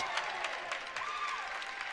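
A crowd at a high school wrestling tri-match in a gym cheers and claps after a pin, a sustained moderate roar of applause with a commentator's voice over it.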